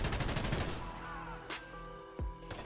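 Sustained LMG machine-gun fire in Call of Duty: Modern Warfare, rapid bursts layered with game effects and a few sharp impacts, heard fairly close.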